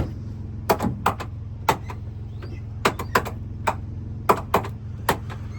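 Worn door checks on a 2012 Toyota Tundra make a series of sharp, irregular pops and clicks as the door swings, close and fairly quiet over a low steady hum, with no voices.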